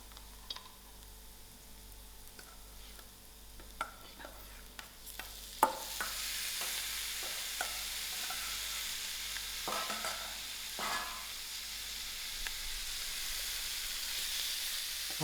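Lamb mince fries in a pan with a soft hiss that swells louder midway, broken by irregular scrapes and taps of a utensil stirring and breaking up the meat, with no voices.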